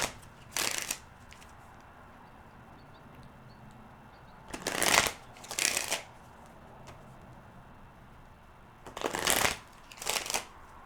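Playing cards are shuffled in three separate bursts of fast riffling flutters, each a pair of quick rushes, close and clear against a quiet room with no talking.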